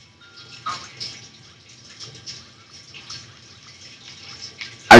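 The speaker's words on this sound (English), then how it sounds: "That water noise is really weird." Ambient water noise in the game Growtopia, a faint trickling, dripping wash with soft swells, fairly quiet, ending in a sudden loud burst.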